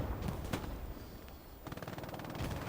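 Machine gun fire and explosions crackle in the World War II shooter Hell Let Loose, a dense, continuous battle din with rapid bursts of gunfire and heavy thumps over steady rumble.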